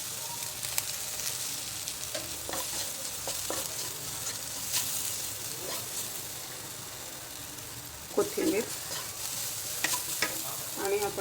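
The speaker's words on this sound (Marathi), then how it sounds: "हा बटाटा बारीक कापून घेतलाय तो घालायचा पाच मिनटं छान हलवून घ्यायचं" Finely chopped potato frying in a pan with asafoetida, turmeric and curry leaves is stirred steadily, giving a continuous sizzle with scraping and clinking of the spoon, louder around the end, with no talking.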